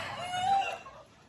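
Chickens cluck briefly close by, a short burst of soft fowl calls that fades out toward the end.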